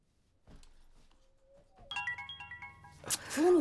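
A phone rings with a repeating electronic melody of short tonal pulses, preceded by quiet rustling and followed by a louder burst of noise.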